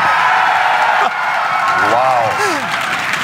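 A big esports tournament crowd at a StarCraft II team league final roars and applauds continuously, with a voice briefly calling out over the noise near the middle.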